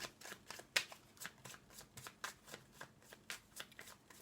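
Playing cards being shuffled up close in a quiet room, a rapid series of crisp riffling bursts repeating steadily for several seconds.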